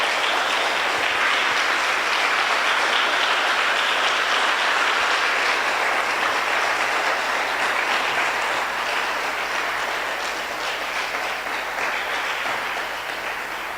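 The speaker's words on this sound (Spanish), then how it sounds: "Dale un aplauso al Señor." Church congregation giving sustained loud applause during a service, a thick unbroken wash of many clapping hands that holds steady and eases slightly toward the end.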